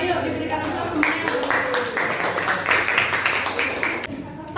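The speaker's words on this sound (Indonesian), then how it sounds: "Ayo diberikan tepuk tangan." Classroom applause after a student group presentation, steady clapping from many hands lasting several seconds, fairly close and moderately loud, stopping abruptly near the end.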